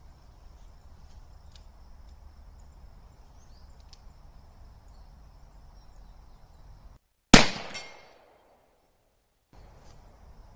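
One loud, sharp shot from a WWII Smith & Wesson 5-inch .38 Special converted revolver rings out over quiet outdoor ambience with insects, followed by a brief decaying echo.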